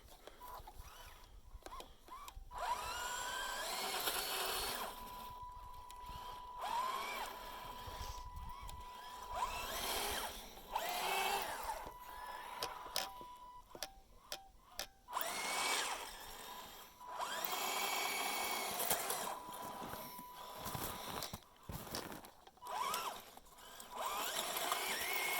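Small motor of an RC tank whining steadily as it drives over rough ground, the pitch rising and falling with brief cut-outs and several short stops and restarts, close and fairly loud.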